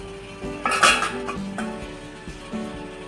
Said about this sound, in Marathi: आता याच्यामध्ये हे प्लेट्स ठेवून घेऊया